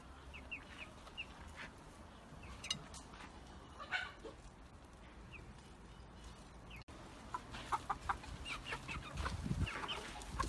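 Newly bought chickens cluck and call in a pen, with scattered short clucks near and far over a steady background hiss and a faint dog-like bark.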